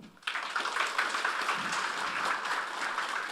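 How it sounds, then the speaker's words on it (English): An audience claps for a speaker at a session on building an open world game, dense even applause starting abruptly and continuing steadily throughout. "Round of applause, guys."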